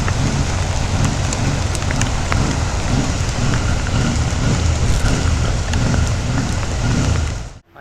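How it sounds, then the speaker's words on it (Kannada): Heavy rain pours steadily on a wet Bengaluru street, a dense, loud, unbroken hiss close to the microphone that runs for several seconds before cutting off abruptly at the end, with no voices over it. "ಮಳೆ ಮಾತ್ರ ತುಂಬ ಜೋರಿದೆ ಗುರು."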